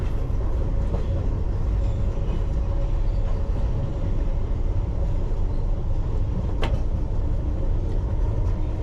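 A London Underground Piccadilly line train runs near Ravenscourt Park with a steady, heavy low rumble and constant rolling roar, broken once by a sharp brief click.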